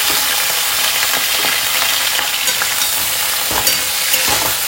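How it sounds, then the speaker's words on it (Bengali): Vegetables frying in a pan, a steady dense sizzle throughout with a few louder crackles and stirring scrapes, close and alone without talk. "সবজিগুলো একটুখানি ভেজে নেব"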